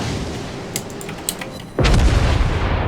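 The Yamato battleship's main guns fire in World of Warships, with a sudden heavy boom that rolls into a long, loud rumbling blast after a quieter stretch of faint clicks and background noise.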